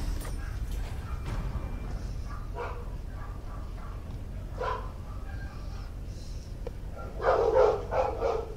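A dog barking in the street, several short barks spread across the clip at moderate distance, with a louder cluster of barks near the end over low background rumble.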